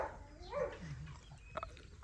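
A pet dog named Muffin, one of the dogs on land full of orange trees, gives faint, soft whimpers and a brief yip, quiet and a short distance away.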